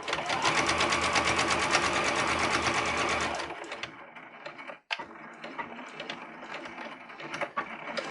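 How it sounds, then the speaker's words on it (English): Sewing machine running steadily at high speed for about three seconds while stitching the last section of a lined zipper pouch, then stopping, followed by quieter handling sounds. "Presser foot back down, and then sew up this last section."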